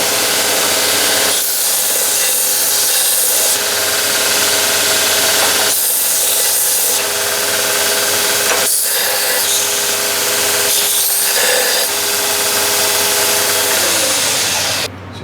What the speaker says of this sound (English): I just got a Kalamazoo 2x48 belt grinder. I got it for basically deburring and small amounts of shaping.